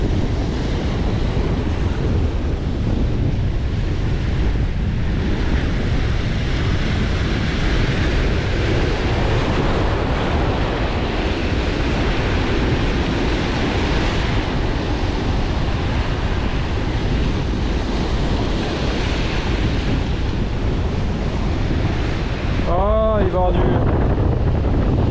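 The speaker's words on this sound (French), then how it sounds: "J'espère que le vent va pas trop vous gêner." Wind buffets the microphone at the edge of murky water while fishing, a constant loud rumbling roar with a faint rippling splash near the end.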